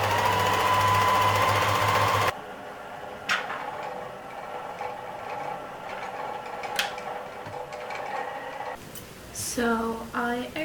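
A sewing machine stitching clothing whirs at a fast, even hum for about two seconds, then stops; faint clicks and handling noises follow, ending with a short voice.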